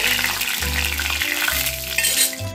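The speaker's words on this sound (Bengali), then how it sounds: "এবার আমি দিয়ে দিচ্ছি একটা শুকনো লঙ্কা, একটা তেজপাতা আর 1/2 চামচ গোটা জিরে দিয়ে দিলাম। এটা হালকা আমি ফ্রাই করে নেব।" Dry red chili, a bay leaf and cumin seeds fry in hot oil for palak paneer, giving a loud, steady, close sizzle that runs without a break, with a low repeating hum beneath it and no voices.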